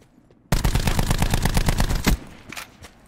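Rapid automatic gunfire in the video game Call of Duty Blackout, a loud close burst of about a dozen rounds lasting under two seconds, followed by fainter distant shots.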